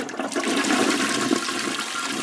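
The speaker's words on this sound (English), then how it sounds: "That sound. There it is. Toilet flush." A toilet flush sound effect plays alone, a rushing swirl of water lasting about two seconds at steady moderate loudness.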